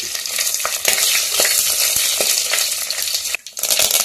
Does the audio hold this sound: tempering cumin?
yes